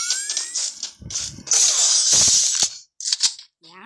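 A 'bullet bomb' firecracker going off close by: a string of sharp cracks and bursts with crackling, hissing tails, loud and uneven, with brief gaps between the blasts.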